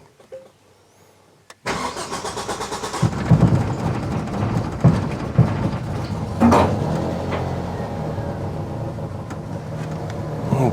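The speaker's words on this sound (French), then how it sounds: "Un peu de mal à démarrer, ralenti instable et trou dans l'accélération" A Ford 2-litre car engine, restored after six years off the road, cranks briefly and catches, then runs on at a rough, uneven idle with surging and dipping, loud and close throughout.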